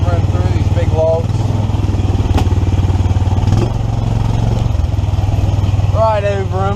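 A 1982 EZ-GO three-wheeler powered by a 420cc Predator engine drives over big logs, its steady chugging engine loud and close throughout, with a few bumps and voices over the drone.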